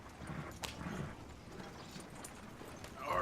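Horse hooves clip-clopping on a ride in Red Dead Redemption 2, a faint, uneven trot of soft thuds under game ambience, with a louder rustle at the end.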